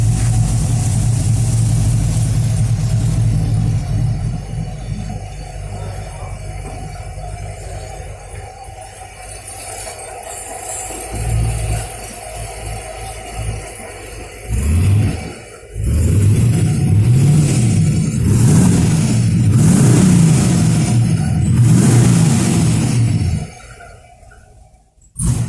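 A 1965 Impala SS engine runs on a lift through a new twin turbo exhaust, idling low and burbling, then revving in bursts before cutting off near the end.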